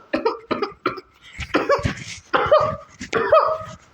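A voice imitates the dry, hacking cough of whooping cough in several short bursts, rhythmic and close, with brief gaps between coughs.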